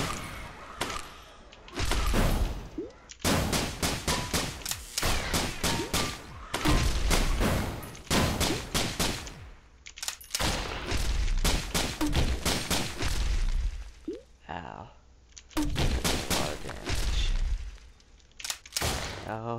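Rapid video-game gunfire in Risk of Rain, loud bursts of repeated shots coming in long volleys with brief pauses between them, up close with heavy impacts and no voices.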